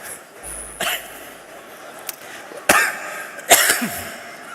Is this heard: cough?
yes